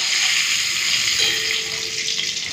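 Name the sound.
shrimp frying and sizzling in oil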